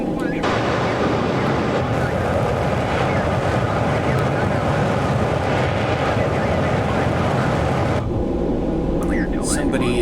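Concorde engines roaring on reheat during a takeoff run in a flight simulator, a loud, constant broadband rumble and roar that stays steady for about eight seconds before easing slightly at the end.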